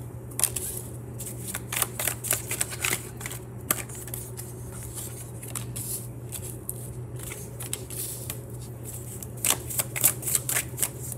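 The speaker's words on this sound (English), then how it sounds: "So what I'm going to do is pull some cards here and see what's going on." Tarot cards are shuffled and pulled in a series of crisp, close riffling and snapping bursts over a low steady hum, with no talking.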